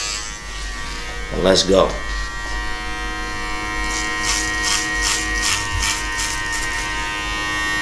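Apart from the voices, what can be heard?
Babyliss electric hair clipper cutting hair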